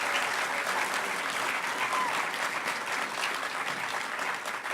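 Continuous applause from a large audience at the HOPE Number Nine (2012) hacker conference closing ceremony, thick, even clapping at full strength for several seconds with slight swells and a dip near the end.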